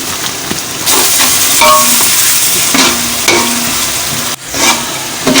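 Green chillies and pulao masala fry and sizzle in a pot for beef pulao, with steady loud crackling and repeated stirring scrapes throughout, no talking.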